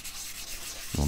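Abrasive paper rubs back and forth across a wooden revolver grip held flat, a close, steady scratchy sanding hiss that runs throughout, with a brief voice starting right at the end.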